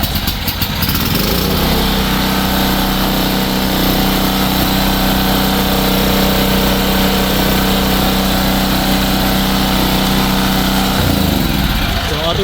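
A small engine on an MP3500 unit, started using the choke and a pull starter, catches after an initial pull and runs at a loud, steady idle that holds for about ten seconds before cutting off near the end.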